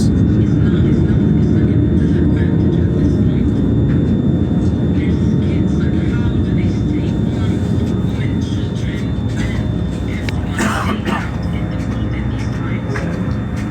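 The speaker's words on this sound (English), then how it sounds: "it's a aircraft sound, and it's very near" An aircraft flies very close overhead, a loud, continuous roaring rumble that holds steady throughout. It swells into a sharper burst near the end, with faint voices mixed beneath it.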